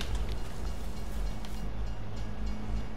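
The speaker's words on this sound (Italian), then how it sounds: "si sono chiuse le barriere, quindi sta arrivando il treno" Train in Farming Simulator 22 approaching a level crossing with closed barriers, a steady loud rumbling roar that continues throughout.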